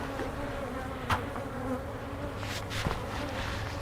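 Honey bees in an opened hive during a swarm-prevention frame check, a steady low buzzing hum with occasional louder individual bees passing close.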